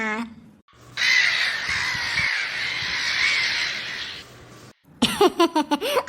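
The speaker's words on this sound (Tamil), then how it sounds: "அடடே காக்கா காக்கா" A harsh crow caw stretches over a few seconds, then a person starts talking.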